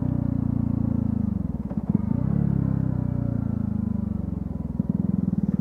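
A Kawasaki motorcycle engine rumbles steadily close by, its low throbbing drone rising slightly as it passes.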